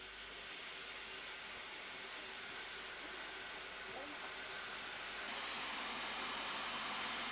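A steam locomotive getting up steam inside an engine shed with its chimney still under the roof, giving a steady, dense hissing roar that swells slightly louder toward the end.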